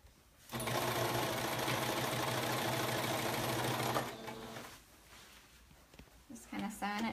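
A sewing machine stitches down a pullover in one loud, steady run of about three and a half seconds, then stops; softer handling noises and a brief voice follow.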